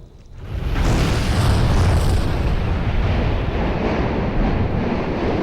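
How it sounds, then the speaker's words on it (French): A sudden deep roaring blast from a volcanic explosion in Vanuatu swells up and keeps rumbling loudly and continuously, heard close by with wind buffeting the microphone. "chaque fois que vous voyez une explosion comme ça"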